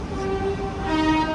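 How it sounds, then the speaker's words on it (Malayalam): The Kerala Express rolls into Nagpur Junction, a steady close rumble of wagons with a sustained horn tone running through it. "ട്രെയിൻ ഇതാ മഹാരാഷ്ട്രയിലെ നാഗ്പൂർ ജംഗ്ഷനിലേക്ക് എത്തുകയാണ്"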